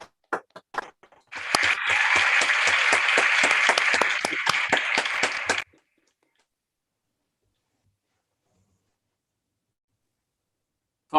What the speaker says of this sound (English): Graduates, future doctors, we salute and applaud you.